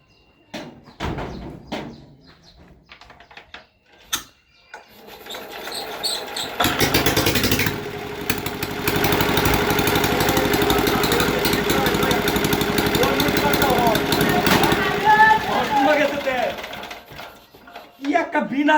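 A motorcycle engine starts after some short knocks and then runs at a steady idle at close range, loud for about ten seconds, while people talk over it.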